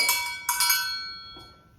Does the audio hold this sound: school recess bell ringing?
yes